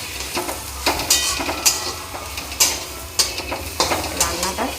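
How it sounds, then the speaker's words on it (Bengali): Cabbage being stir-fried in a pan: a low sizzle underlies a series of sharp scraping strokes from the spatula, coming about once every half second, close and fairly loud. "এই যে ভালো করে কষিয়ে নিই বাঁধাকপিটা।"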